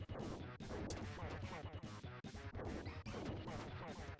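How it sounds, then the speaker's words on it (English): Repeated boss explosions in the SNES-era game TMNT IV: Turtles in Time, a fast run of loud crunching blasts and smashes over busy game music, with no speech. "Last 2 bars of health, he goes into explosions."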